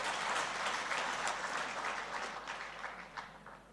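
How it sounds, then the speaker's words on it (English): Audience applause at a Qcell 5G launch event in the Gambia, a dense, steady wash of many hands clapping that slowly thins toward the end, with no voices over it. "And please give another round of applause for Qcell."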